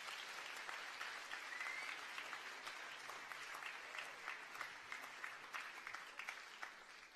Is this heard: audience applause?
yes